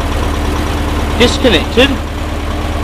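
A late air-cooled VW engine fitted with an old-school SVDA distributor idles steadily at about 800 RPM, its low even rumble running throughout while someone speaks briefly over it.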